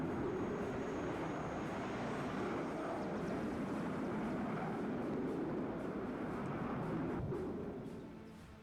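A steady, loud roar from an SU-25 jet in the strategy game WARNO that holds constant for several seconds and then fades slightly at the end.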